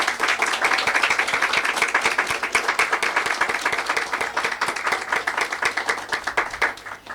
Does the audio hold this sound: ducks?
no